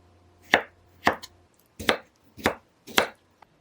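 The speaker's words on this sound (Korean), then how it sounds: "찐 당근은 비스듬히 먹기 좋게 자르세요." A knife chops through steamed carrot on a cutting board, making five crisp, evenly spaced thuds close by, each with a short woody knock, and near silence in between.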